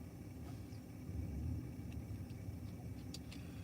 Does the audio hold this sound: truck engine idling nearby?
yes